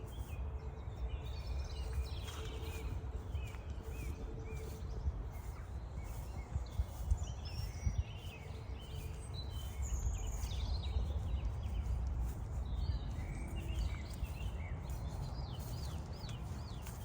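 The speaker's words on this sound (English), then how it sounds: "You can just listen to what the birds are singing." Birds sing and chirp through a quiet outdoor bonsai nursery, scattered calls at mid distance over a low steady ambient rumble, with no one talking.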